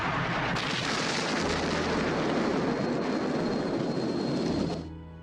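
Aircraft bombing a partisan hideout camp in a 1985 war film, a dense continuous roar of blasts and engine rumble, loud and unbroken, that drops away abruptly near the end.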